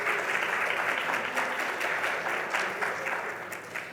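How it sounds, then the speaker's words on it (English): A conference audience at a healthcare event in the Cayman Islands gives sustained applause, a dense, steady clapping of many hands that fades slightly toward the end. "Let's give them a round of applause."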